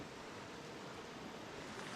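A river waterfall in Cheesman Canyon roars as a steady, even wash of rushing water, distant and unbroken, with no voices.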